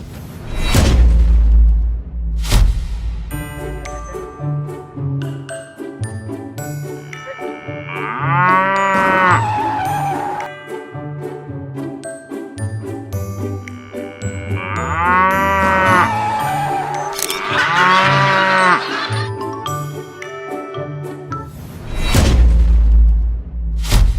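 A cow on a road gives two long, loud, wavering moos, with heavy whooshing rushes at the start and end from nearby passing traffic.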